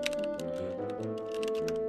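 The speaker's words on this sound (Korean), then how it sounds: "자 타이핑." Fast clicking keystrokes on a computer keyboard, a steady rapid patter with a tonal hum in the background and no speech.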